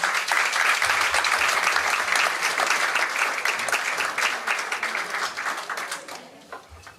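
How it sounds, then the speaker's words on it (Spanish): Audience applause at an international ufology congress conference as two speakers are welcomed to the stage; sustained dense clapping from a large crowd, fading toward the end. "Un aplauso."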